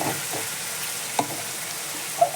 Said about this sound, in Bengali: পাশে হচ্ছে লাউয়ের বাকলা ভাজা